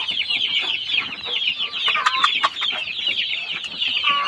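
Bantam, Rhode Island and Hubbard chickens cluck and chatter together at close range, a busy, continuous flock sound with scattered sharper squawks and no voices.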